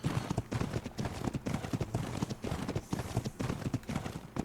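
Horse hooves clip-clopping steadily and close in the video game Ark Survival Evolved Ragnarok, a continuous rhythmic trotting patter running through the whole stretch with no talk over it.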